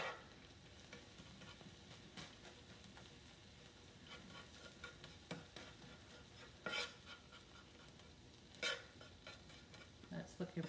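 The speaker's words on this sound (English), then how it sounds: "Give them another mash." Canned beans with a squirt of cooking oil being mashed in a hot pan, quiet continuous sizzling broken by repeated scraping, knocking strokes of the masher against the pan.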